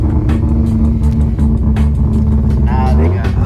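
Turbocharged Mazda RX-8 rotary engine running loud and steady up close, a dense low rumble with rising rev notes near the end, with voices talking over it.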